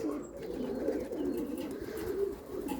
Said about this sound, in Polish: O, chodzą i gruchają.